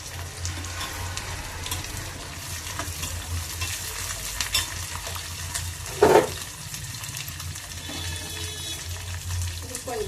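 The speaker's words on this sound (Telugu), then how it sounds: "ఇదిగో ములక్కాడ కూడా వేస్తున్నాను." Drumsticks drop into a pan of raw prawn curry with raw mango and tamarind, sizzling steadily throughout, with one brief louder splash and clatter as the pieces land midway.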